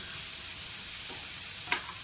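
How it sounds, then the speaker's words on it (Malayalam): Tinda sizzles steadily in a hot pan as turmeric powder is stirred through it, a continuous close frying hiss with a couple of soft scraping knocks near the end. "മഞ്ഞപ്പൊടി ഇട്ടിട്ടു ഇതിന് നല്ലോണം ഒന്ന് ഇളക്കട്ടെ"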